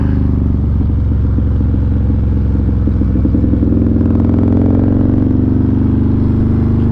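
Zipper's Performance Harley-Davidson 128 Street Glide, tuned to 177 horsepower, riding through a turn, its engine drumming in a steady loud low rumble that shifts pitch as the bike works the bend.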